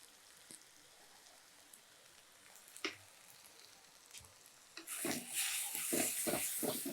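Food sautés in a pan with chili powder and salt for a Kolli Hills mudavattukal soup. A few faint clinks sound first, then a loud, crackling sizzle bursts in and keeps going to the end.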